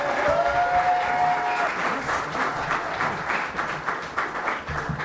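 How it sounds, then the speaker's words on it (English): An audience at an evening river-conservation event breaks into sustained applause, dense clapping that fills the room and holds steady before gradually thinning. "of applause for your Miles Wide Riverkeeper, Ben Ford."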